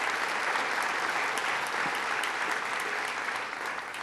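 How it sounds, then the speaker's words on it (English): A large audience at a downtown revitalization announcement event claps continuously, giving a thick, even roar of applause that holds steady for several seconds and eases slightly at the end, with no talk. "Let's give him a round of applause."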